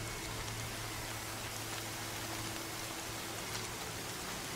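Driving rain in the video game Horizon Zero Dawn, a steady dense hiss of downpour that runs unbroken and fairly quiet throughout, with a low hum beneath and no voices.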